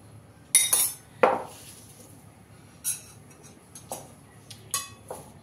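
A bowl is set down in a home kitchen during green chilli pickle making: a few sharp ceramic or metal clinks and knocks, spaced apart against a quiet background.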